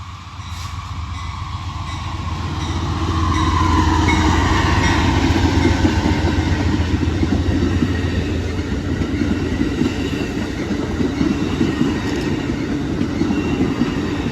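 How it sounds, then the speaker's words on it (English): An Amtrak passenger train, the northbound City of New Orleans, rumbles past loudly and steadily in Memphis, with rolling wheel noise and rail clatter that swells and then holds at a close, heavy level. "Amtrak 58, the northbound city of New Orleans."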